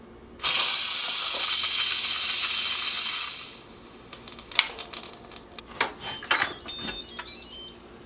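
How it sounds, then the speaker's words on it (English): An Instant Pot's pressure valve is flipped to venting for a quick release while making bone broth: a loud, steady rush of steam hisses for about three seconds and then cuts off, followed by scattered clicks and small handling knocks. "To quick release the pressure, I'm just going to flip the valve from sealing to venting."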